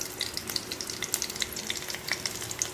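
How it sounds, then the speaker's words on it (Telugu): Tempering of mustard seeds, cumin and garlic crackling in hot oil, with curry leaves and dried red chillies to follow; a steady close sizzle with sharp popping spits scattered throughout. "ఇదిగోండి కొంచెం తాలింపు వేసుకుందామండి."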